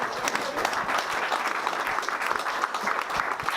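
Applause for category winners at a cycling race prize ceremony: a dense, steady patter of clapping from a crowd, loud and continuous throughout.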